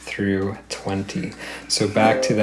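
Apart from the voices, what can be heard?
No distinct noise like a dog, phone or traffic.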